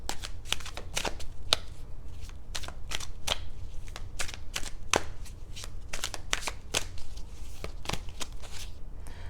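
Tarot cards are shuffled close up for a single-card pull, a quick run of crisp, sharp riffling snaps and slaps in irregular bursts against a quiet room, with no voices.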